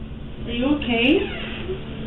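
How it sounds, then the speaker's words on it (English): A single drawn-out cat meow, fairly close, rising and falling in pitch over a low background hum. "Is there a cat in here?"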